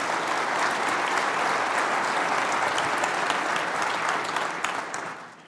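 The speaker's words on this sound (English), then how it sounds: "So please join me in a huge round of applause for Barry Sternlicht." A large audience at a real estate forum applauds steadily, dense and sustained, fading out at the end with no talk over it.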